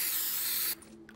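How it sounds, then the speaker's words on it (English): A spray can hisses in a single steady burst for under a second, then cuts off, leaving quiet game ambience. The spray is applied to the side of the TARDIS in Fortnite Creative. "Can I spray the side of the TARDIS?"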